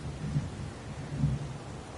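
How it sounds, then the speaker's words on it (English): Heavy rain pours in a steady wash with low rumbles of thunder rolling twice beneath it, moderately loud and with no voices. "It's pouring rain."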